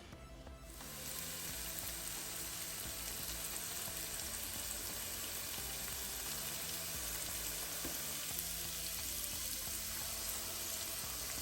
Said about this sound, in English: we're gonna add some pimento seed. I also like to add pimento powder instead of the seed sometimes, so whichever one you have, use whatever you have. And saute those